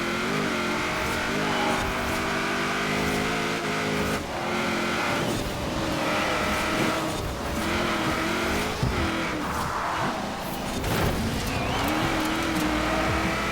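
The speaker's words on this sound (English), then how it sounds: "when it gets out of the corner, it just spins up its wheels so much" A Pontiac Firebird in Forza Horizon 4 drives hard with a steady, loud engine drone and revving, while its spinning wheels squeal repeatedly out of corners. No voices are heard.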